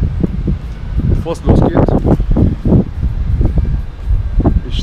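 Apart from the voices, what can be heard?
wind blowing outdoors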